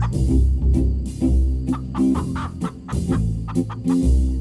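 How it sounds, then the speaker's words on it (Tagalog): Chickens cluck repeatedly in short, choppy bursts close at hand over a steady low hum, loud and continuous throughout. "Uy, manok!"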